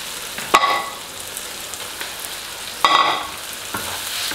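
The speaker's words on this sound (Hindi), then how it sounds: "टमाटर डालने के बाद तकरीबन 5 मिनट तक हम इसको फ्राई होने देंगे" Tomatoes frying in hot oil with ginger-garlic paste for a Pakistani sobat dish, a steady background sizzle broken by a few sharp stirring scrapes and bursts of crackle, with no talking.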